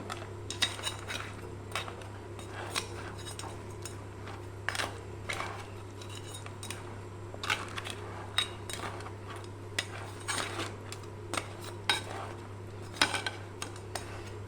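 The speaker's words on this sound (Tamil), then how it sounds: "கரண்டியில் இப்போ இந்த மாதிரி நல்லா கலந்து விடலாம்" Metal ladle scraping and clinking against a pot of crab curry, repeated irregular stirring strokes over a steady low hum, fairly close.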